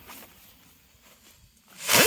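A small zipper firework lit on a grass lawn after the Fourth of July bursts into a loud rising whistling whoosh near the end, after a quiet stretch of faint outdoor hiss.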